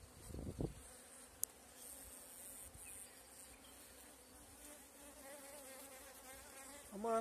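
Honeybees buzz at an open hive during a May inspection of the box, a soft continuous drone with a few brief louder passes near the start and end.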